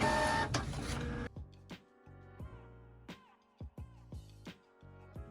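Home printer printing candle labels: a dense mechanical whir for over a second, then a series of short rhythmic clicks and feed pulses, each sharp and close, with quiet pauses between them and no talking.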